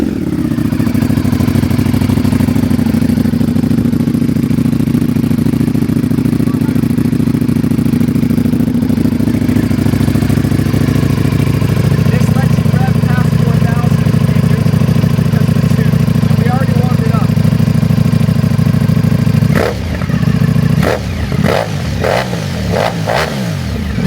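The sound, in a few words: Ducati Panigale V4 with Arrow titanium exhaust revving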